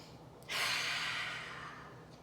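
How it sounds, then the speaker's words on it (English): A single forceful, breathy exhale blown out hard through the mouth like a dragon's breath, starting abruptly and trailing off over about a second and a half, close and alone. "So we can be like dragons and use dragon breath to blow out that anger."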